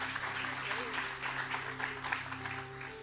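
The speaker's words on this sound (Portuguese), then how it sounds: "já vamos dar uma salva de palmas a Jesus pela vida dele" A church congregation claps together in sustained applause for Jesus during a Portuguese-language worship service, dense and steady throughout, with voices mixed underneath.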